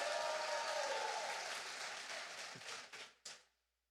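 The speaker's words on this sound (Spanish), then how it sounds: "Fuerte aplauso para Leslie" Applause from a class group fills the room in a steady wash of clapping that thins out over a few seconds, ending with a couple of last distinct claps.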